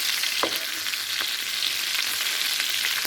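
Pieces of fish fry in hot oil, a dense, continuous hissing sizzle with a few soft taps of a utensil stirring in the pan.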